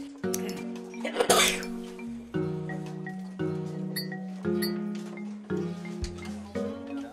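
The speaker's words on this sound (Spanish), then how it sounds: "Una mañana, el pueblo se llenó de estornudos y malestar por todas partes." Several people sneeze and cough in a village story, a sharp sneeze burst early followed by a string of shorter coughs and throat sounds at a moderate, uneven rhythm.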